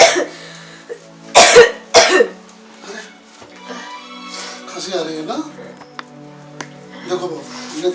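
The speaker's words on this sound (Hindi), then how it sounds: "खांसी आ रही है ना?" A person coughs in a few sharp, loud bursts, followed by throat clearing and a raspy voice speaking at close range indoors.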